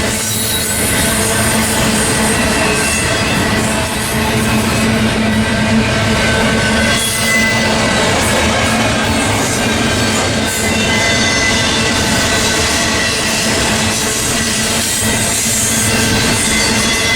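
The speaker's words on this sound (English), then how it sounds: "This is a big train. It's a big long train." A big, long freight train rolls past close by at Commerce, Fullerton, with a loud, steady rumble of wheels and cars and a thin squeal running through it, unbroken throughout.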